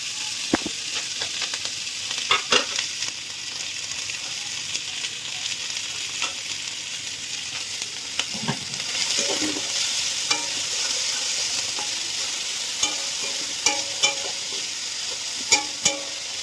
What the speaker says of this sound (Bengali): এই যে সবজিগুলো কাটা হয়ে আছে, এইটুকু জিনিস আমরা একটু তেল দিয়ে ভেজে নেব